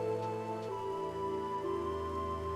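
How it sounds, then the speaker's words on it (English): Rain falls steadily in the retro-styled fantasy video game Moonring, a constant soft hiss that runs under sustained, droning in-game music tones. The level stays even throughout and no one speaks. "I am wet because it's raining."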